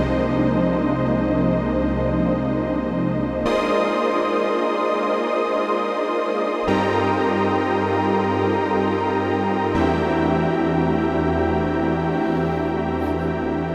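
Sustained synthesizer pad chords, dense and steady, changing to a new chord every few seconds with no gaps and no talking.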